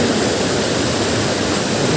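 The main waterfall at Kedung Pedut in Kulon Progo pours in a loud, steady, unbroken rush of falling water close by, filling the whole space with dense hiss and roar.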